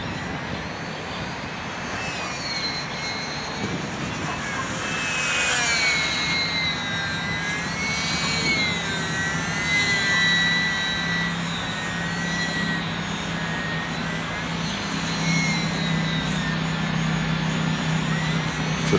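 A small Sbach 342 model aerobatic airplane engine screams steadily overhead in calm air, its pitch rising and falling as the plane swoops and climbs vertically, loud and continuous with no talking.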